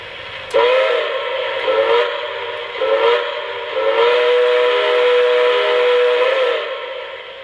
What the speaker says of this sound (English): I really like the whistle on this engine